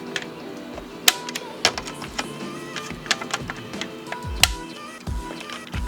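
A torque wrench tightening small screws on the steel bar of a Midwest Industries Alpha Series AK handguard, giving close, loud metallic clicks and ratcheting taps in irregular bursts with brief pauses.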